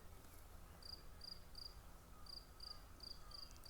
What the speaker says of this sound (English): What's that cricket we can hear behind? Is that a field cricket?